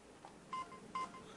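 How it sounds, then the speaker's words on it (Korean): Telephone keypad tones sound as a phone is dialed using the mouth: two short, clear DTMF beeps about half a second apart, close and alone over quiet room noise. "이제 급한 도움이 필요할 때면 입을 이용해 전화를 걸 수 있게 됐습니다"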